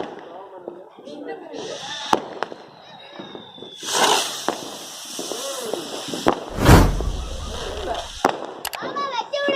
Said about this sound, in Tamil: ஹெலிகாப்டர் வெடி பார்க்க போகிறோம்